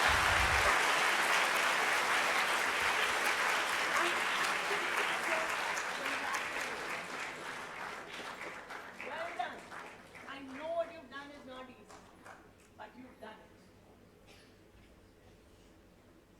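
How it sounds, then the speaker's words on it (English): A school assembly audience applauds three students called up on stage, loud dense clapping that gradually thins and fades as scattered voices rise near the end. "I need you to clap for them"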